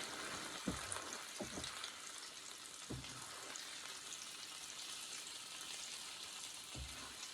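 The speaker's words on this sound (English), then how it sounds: "we gotta keep flipping them and stirring them around the pan so that they could cook to their full potential" Onions sauté in a pan with a continuous soft sizzle, broken by a few thumps and scrapes as they are flipped and stirred, moderately quiet and without talk.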